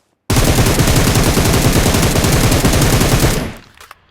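Rapid automatic gunfire in a shooter video game, fired through a 4x scope. One loud, continuous burst lasts about three seconds and then cuts off. Nobody speaks.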